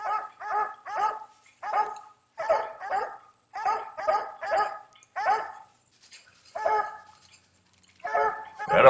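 Coon dogs bay and bark at a tree in a steady run of repeated loud barks, several dogs overlapping at close range, with a short lull before a final loud burst.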